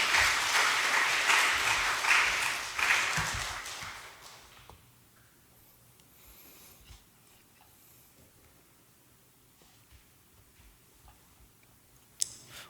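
A church congregation at an afternoon worship service applauds, welcoming the pastor before the sermon. The clapping is full and steady for about four seconds, then quickly dies away into near silence with a single faint knock near the end.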